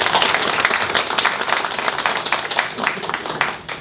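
Applause from the audience at a public hearing on maintenance standards for information and communications facilities, honoring an attending guest; steady, fairly close clapping fills the whole stretch with a faint voice underneath.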